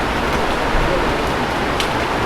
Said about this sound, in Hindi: यहाँ पे जोर की बारिश हो रही है